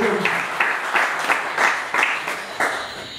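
A crowd at a French municipal election rally applauds with steady, fairly even clapping and a few louder rhythmic beats standing out.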